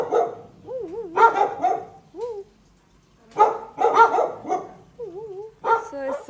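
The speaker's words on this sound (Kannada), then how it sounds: "ಎಂತಕ್ಕೆ ಬೊಗಳುದು?" A dog barks in several loud bursts near the recorder, its barks mixed with high wavering whines and yips, with short quiet gaps between them.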